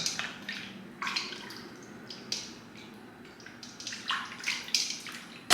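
Tap water runs over steak meat being washed in a kitchen sink, giving a quiet, continuous splashing with irregular louder spatters and drips.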